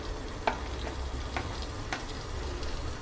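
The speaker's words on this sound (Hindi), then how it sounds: "और इन सभी चीज़ों को हम मिक्स करेंगे।" Spiced potatoes are stirred in a hot pan, a steady sizzle running throughout with a few soft scraping knocks of the spoon against the pan.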